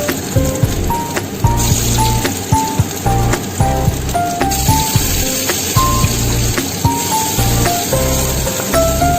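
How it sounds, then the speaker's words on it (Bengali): Marinated chicken pieces for chili chicken fry in boiling oil, making a loud, steady crackling sizzle with a low bubbling underneath and occasional sharper pops, close and continuous. "এবার আমি ম্যারিনেট করা মাংসগুলো সব এক এক করে ফুটন্ত তেলে ভেজে নেব।"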